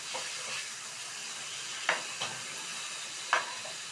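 Kanagatha fish pieces shallow-frying in a pan at home give a faint, steady sizzle and hiss, broken by a few brief scraping clinks as the pieces are turned.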